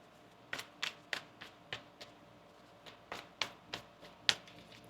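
Tarot cards are shuffled by hand in a quiet room, giving a string of about a dozen crisp, separate riffling snaps at an uneven pace, close and fairly soft, with no talking.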